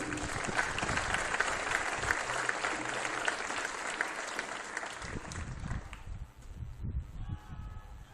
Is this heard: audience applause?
yes